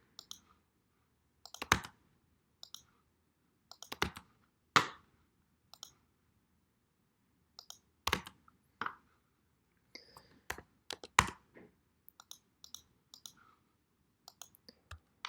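Keys clack on a computer keyboard as commands are entered in AutoCAD, scattered close clicks in short bursts and single taps separated by pauses, alone in a quiet room.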